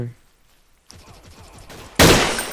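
Gunfire from the first-person shooter Blockade 3D, a brief sharp shot burst near the end after quieter game sounds, loud and close, with no talk over it.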